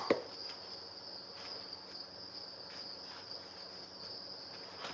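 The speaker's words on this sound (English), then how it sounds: "you get the soothing sound of crickets" Crickets kept in breeding bins chirp in a steady, high, continuous trill, soft and even throughout.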